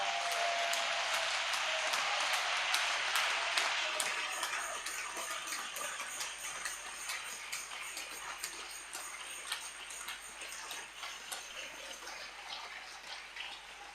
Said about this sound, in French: vous allez vous lever et vous allez vous applaudir vous-même